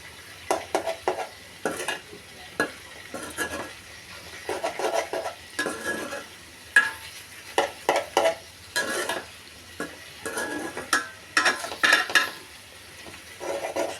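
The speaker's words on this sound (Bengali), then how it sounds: "সব কিছু দিয়ে কষিয়ে নিচ্ছি।" Cucumber and prawns with spices sautéed in a pan: repeated spatula scrapes and metal clinks against the pan come in irregular bursts over a light sizzle, close and busy throughout.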